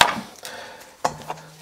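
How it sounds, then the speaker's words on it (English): A knife chops the leafy tops off freshly harvested Detroit Red beets, a few crisp close cuts and taps on a board with brief pauses between them. "And let's chop that top."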